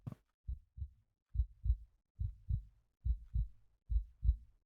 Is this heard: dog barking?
no